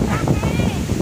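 Strong wind gusts across a fishing raft on the Cirata reservoir, roaring and buffeting loudly up close against the microphone, while people talk over it.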